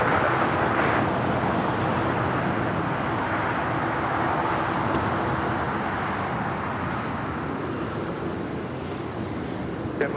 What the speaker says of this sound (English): This is Aeromexico, Dreamliner coming in from Mexico City, flight 646.